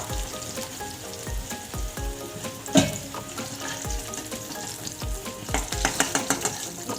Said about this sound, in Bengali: ফুলকপি ভেজে নিচ্ছি